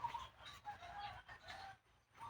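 A chicken in a chili pepper garden gives short, faint clucks and soft squawks over a quiet outdoor background, brief and close by.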